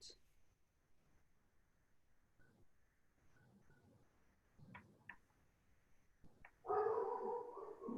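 Dogs in a home office bark and yip in short bursts, muffled and partly distant, building to a louder, sustained stretch of barking near the end. Faint room noise runs underneath.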